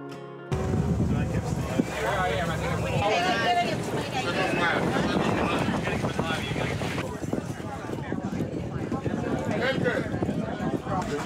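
A shuttle boat motors over water to a larger boat off a Dominican Republic beach, amid heavy wind rumble, with people talking throughout and a steady engine drone underneath.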